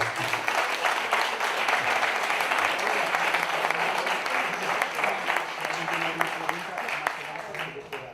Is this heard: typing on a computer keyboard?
no